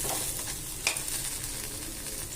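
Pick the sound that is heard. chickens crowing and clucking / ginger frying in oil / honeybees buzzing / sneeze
ginger frying in oil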